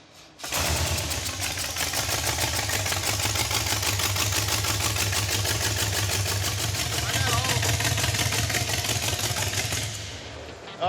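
A close car engine, running with its valve covers off and little oil at the top end, idles low with a rapid, even mechanical chatter and low drone, running steadily before cutting off near the end.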